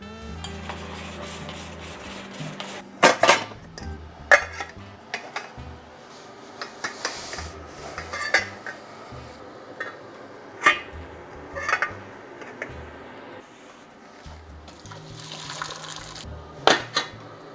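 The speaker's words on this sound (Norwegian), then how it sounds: "Heller av vannet på potetene, heller smør oppi potetene, rister, og legger utover panna, inn i ovnen." Potatoes are drained of water in the kitchen, butter is poured over them and they are shaken in a metal pan, producing sharp clanks and scrapes of pots and utensils between quieter sloshing and rubbing sounds, fairly close.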